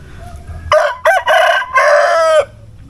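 A tethered Talisayin rooster crows loudly and up close in one multi-part cock-a-doodle-doo, with quiet background before and after.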